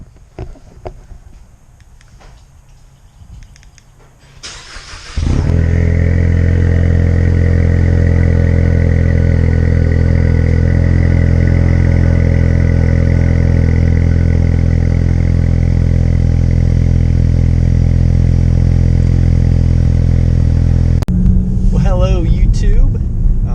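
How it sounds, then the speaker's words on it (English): A son's go-kart engine in a cold start: a few seconds of quiet, then a small engine catches and roars, holding a loud, steady, buzzing idle close by before cutting off, a voice faintly heard at the end. "Here's a crazy cold start."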